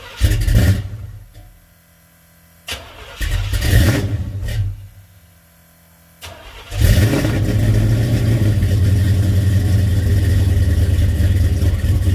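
A 1966 Chevrolet Chevelle with older exhaust parts cranks and fires in loud bursts, stalls back to quiet twice, then catches and settles into a heavy, steady rumbling idle up close.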